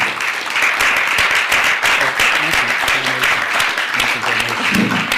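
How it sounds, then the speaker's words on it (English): A forum audience gives a warm round of applause to speaker Ted Gunderson, a dense, loud wash of many clapping hands sustained for several seconds. "Let's give a warm round of applause to Ted Gunderson,"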